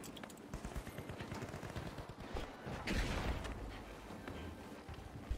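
Gunfire rattles in The Finals, an arena shooter, with rapid bursts of shots and a heavier blast near the middle, busy and dense with game combat noise throughout.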